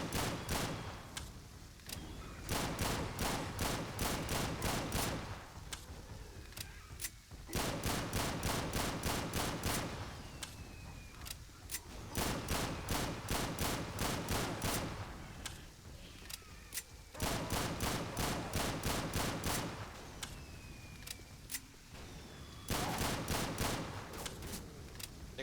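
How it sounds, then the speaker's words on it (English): Sustained automatic gunfire in Left 4 Dead 2 on the Pier Pressure map at Expert difficulty, coming in long rapid bursts separated by short pauses and repeating steadily at fairly even loudness. "they got some shots off on him"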